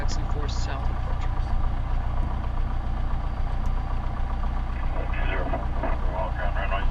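A training airplane's engine idles steadily on a university ramp before taxi, a constant low drone with radio chatter and voices over it throughout.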